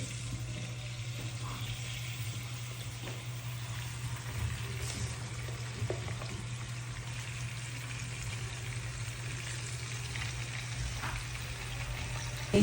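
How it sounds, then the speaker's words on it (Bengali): Steady oil sizzle of meat frying in a wok, a constant crackling hiss with a low hum underneath and occasional scrapes, no talking. "আবারও দিয়ে দেবো কড়াইতে একভাবে সবগুলা ভেজে নেব"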